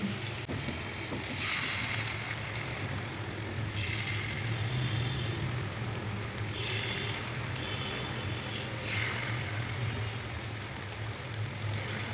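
Fish-oil fritters frying in hot oil in a wok give a steady, close sizzle and crackle throughout, with a few brighter bursts of spattering rising and fading every few seconds.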